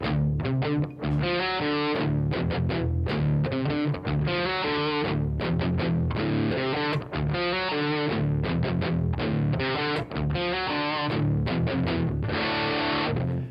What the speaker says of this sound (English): So kicking the distortion on